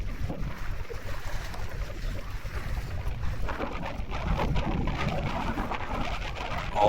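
Strong wind buffeting outdoors by the water at Northport, Long Island, New York, a continuous loud rumbling roar on the microphone with gusts swelling toward the end and no speech.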